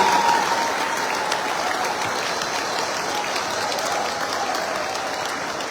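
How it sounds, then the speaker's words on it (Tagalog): A large audience gives loud, sustained applause for Manila drivers at a graduation gathering, a dense wash of clapping that holds steady and tapers only slightly. "Palakpakan natin ang pinakamalakas yung palakpak para sa mga driver ng Manila."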